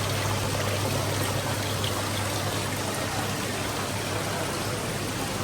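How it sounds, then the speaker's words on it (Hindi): A decorative waterfall built from a cut tree trunk pours water steadily, a broad, constant, fairly loud wash of splashing that continues alone without any break. "It's waterfall."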